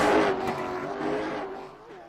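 A late model race car roars past on the paved New Smyrna Speedway oval during qualifying, a loud engine drone that fades slightly as it goes by.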